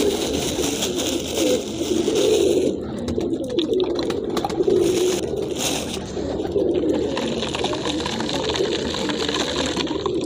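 Pigeons cooing amid a busy, noisy background: a continuous low murmur of soft coos with clattering and rustling over it, fairly loud and steady.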